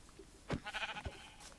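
Sheep bleating in a video game: a short animal bleat rises near the middle of the clip over a quiet background, with a softer second call just after it.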